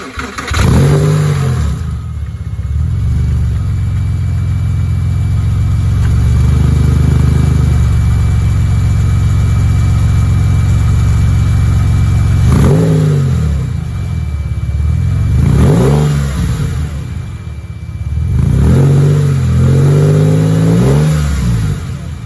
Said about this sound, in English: So here's our first cold start with the new exhaust.